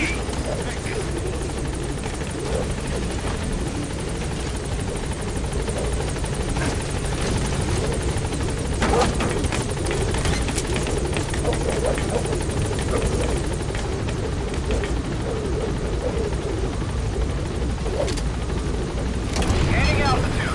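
A B-Quad support helicopter from Metal Gear Solid 5 flies steadily close by, its rotor roar dense and continuous for the full stretch, with brief swells near the end and radio voices heard over it.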